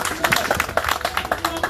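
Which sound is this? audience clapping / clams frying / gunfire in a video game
audience clapping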